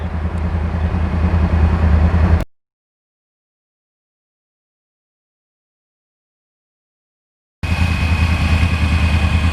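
A 2009 Yamaha R1 Crossplane motorcycle engine idles steadily and loudly up close, cuts out abruptly into silence for several seconds, then comes back at the same steady idle.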